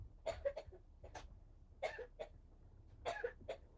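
Several short, dry coughs come in bursts, close and fairly quiet, with brief pauses between them.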